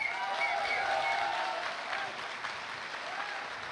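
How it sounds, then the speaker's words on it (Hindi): An audience at a Safe Shop business gathering claps in a dense, steady round of applause, loud at first and easing slightly toward the end. "खड़े होके ताली होनी चाहिए सर के लिए,"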